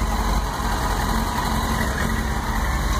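A Yamaha YZF-R6 limited-edition motorcycle with carburetors due for cleaning and balancing idles roughly and unevenly, a loud, steady, close engine drone that wavers throughout.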